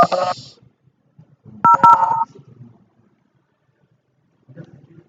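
Telephone keypad tones as a number is dialed, a short burst of several bright beeps in the middle, with brief talk at the start and near the end.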